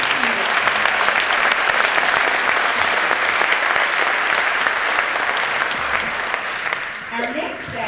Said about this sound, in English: Let's have a big round of applause for these outstanding students.